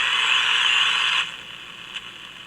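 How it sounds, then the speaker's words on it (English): Warbling, shifting electronic oscillation tones over steady hiss from an RCA Model T62 transistor radio under restoration, loud at first then dropping to a quieter buzz. "Hear those oscillation noises?"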